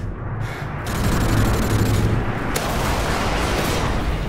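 Dense, continuous gunfire and explosions in Modern Warfare 2 Ground War on Subbase, a loud sustained roar of shots and blasts with no clear gaps.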